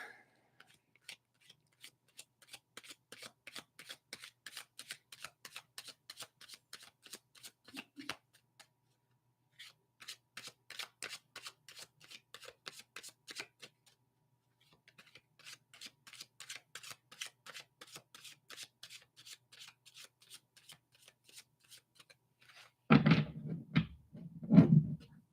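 Tarot cards are shuffled by hand in several quick bursts of soft, crisp riffling clicks, separated by short pauses and ending with a few louder knocks and handling sounds, close and quiet with no talking.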